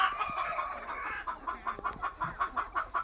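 Desi hens kept for egg laying on a village poultry farm cluck and cackle in a steady chorus, with a run of rhythmic, repeated clucks growing louder toward the end; a rooster crows in the background.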